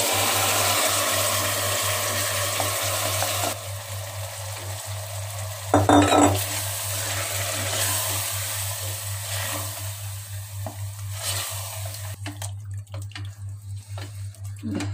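Chicken sautés with softened tomatoes in a pan for seeraga samba chicken biryani. A steady, close sizzle runs throughout, broken by a louder burst of stirring and utensil scraping partway through, before the frying settles again.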